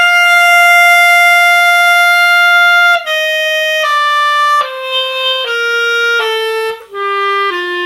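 A clarinet plays a series of high-register notes, one long held tone followed by several shorter steps descending in pitch, loud and clear with brief breaks between notes.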